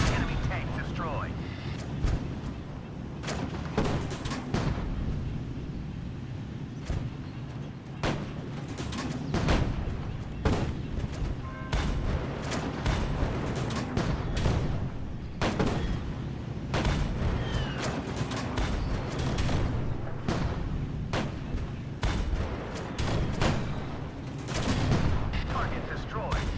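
Tank cannon blasts and explosions in a video game, repeated heavy booms and crackling gunfire at an irregular rhythm, loud and continuous, with someone talking over the battle.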